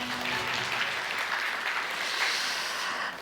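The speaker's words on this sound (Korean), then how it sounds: "오랜 시간 발표에 수고 주신 두 분께 다시 한번 여러분의 뜨거운 박수 부탁드립니다" An audience at a business presentation session on AI for tax accounting gives sustained, even applause throughout, filling the room steadily with no voices over it.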